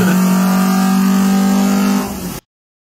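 A 1978 Fiat 128 with a 1300 engine, Megasquirt fuel injection and a 5-speed, imported from Colombia, idles a little high, a steady, close humming drone with a strong low tone that cuts off abruptly.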